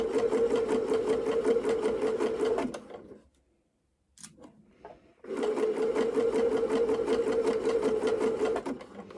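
A sewing machine runs a rapid steady stitching rhythm along gathering lines on a dress, pausing for about two seconds with a few small clicks before starting again, loud and close.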